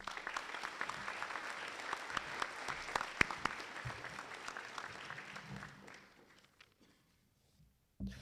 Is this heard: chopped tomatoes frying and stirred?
no